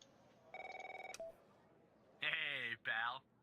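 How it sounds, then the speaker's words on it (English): Video game telephone cues: a rapid series of dialing beeps and a short tone, followed by two long, loud electronic ringing bursts, close and clear with no talk over them. "Oh, phone call."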